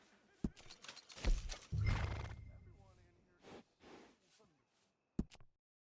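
A horse neighs in the Red Dead Redemption 2 video game, a short whinny with snorting and shuffling hooves in a stable scene, followed by quieter movement and a brief final snort.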